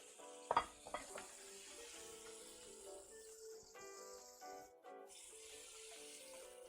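Pork crisping in a pan sizzles quietly and steadily, with a few sharp clatters near the start and faint running-water sounds in the background. No talking.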